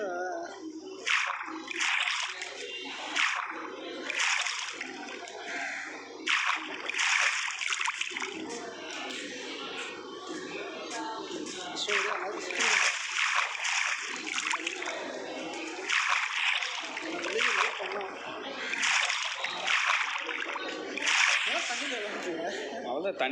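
Repeated splashing and sloshing water as a player climbs a waterfall in Minecraft, in rhythmic bursts, with a voice speaking over it throughout.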